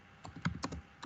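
Java code is typed on a computer keyboard: a short burst of about half a dozen crisp, close keystrokes in an uneven rhythm, with no voice.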